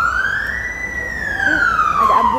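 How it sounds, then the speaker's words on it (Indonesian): An ambulance siren wails in one long sweeping tone that rises and then falls as the vehicle passes on a city street, loud and fairly close, with faint background noise. "ada ambulan."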